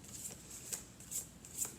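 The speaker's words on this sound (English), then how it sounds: "Because I've already shuffled this deck a lot." A deck of tarot cards is shuffled by hand, giving a quiet, steady riffle with four brighter flicks spaced about half a second apart, close and soft, with no talk.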